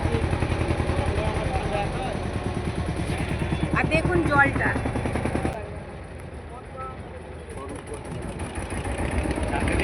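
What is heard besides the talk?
boat engine while crossing the Ganges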